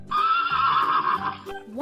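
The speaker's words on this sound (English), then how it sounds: "The horse goes." A horse neighs in one loud, close whinny that rises, holds a shrill wavering pitch for over a second, then trails off.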